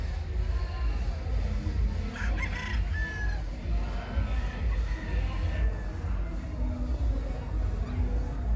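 Stag roosters crowing amid a busy fowl show crowd, several crows rising over a dense murmur of voices and an announcer talking throughout.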